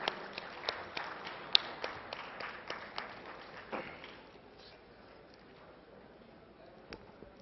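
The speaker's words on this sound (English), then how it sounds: "A big round of applause once again, please." Scattered applause from the audience at a corporate law conference, a few sharp distinct claps at first that soon thin out and fade into quiet room tone, with a final lone clap near the end.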